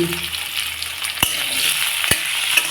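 Papaya and other vegetables fry in a pan with a bright, continuous sizzle, broken by two sharp clacks from stirring.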